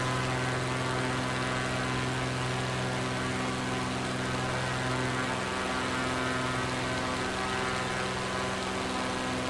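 A propeller aircraft engine at reduced throttle in Microsoft Flight Simulator 2024 drones as a loud, steady hum with a strong low tone and broadband roar, continuous and unchanging, with no talk over it.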